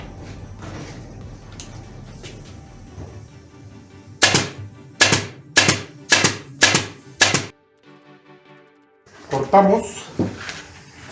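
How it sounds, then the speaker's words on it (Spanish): Five sharp, evenly spaced snaps of a staple gun driving staples through chair upholstery fabric, each a loud crisp clack, set between stretches of someone talking. "jalamos y volvemos a engrapar"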